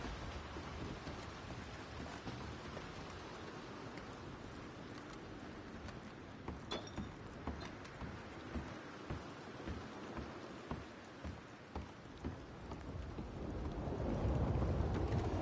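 Rain from a thunderstorm in Red Dead Redemption 2 falls as a soft, steady hiss, with scattered low thumps and a growing rumble of thunder that swells louder near the end.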